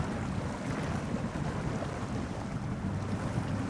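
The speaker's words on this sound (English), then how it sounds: "At least we can still hear the water." Video game water from Snowrunner: continuous low rushing and sloshing with steady wind-like noise, a broad even wash close by with no pauses.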